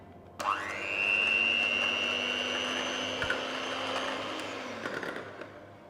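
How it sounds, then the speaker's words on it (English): An electric mixer whirs steadily on low speed, blending chocolate mousse ingredients with potato protein until foamy, switching on sharply, holding a constant motor drone for several seconds, then winding down near the end. "Using a low speed, just start mixing everything together until it becomes foamy."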